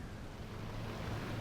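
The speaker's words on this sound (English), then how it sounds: "the waves are pushing us round" Ocean waves wash and rock a fishing boat at sea in the Ships At Sea video game, a soft, continuous surging rush with wind noise and no voices.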